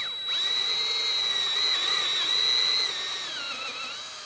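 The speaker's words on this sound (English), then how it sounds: "The idea here is where it's called step drilling" Power drill step-drilling out a broken golf shaft from its hosel, a steady high whining spin that rises and dips slightly in pitch, close and continuous, then winding down.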